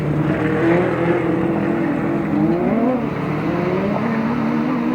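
Grasstrack racing motorcycles, one powered by a Honda CBR 1000 engine, roar steadily at racing speed, a continuous loud engine drone with shifting pitch from several machines, heard without any talk.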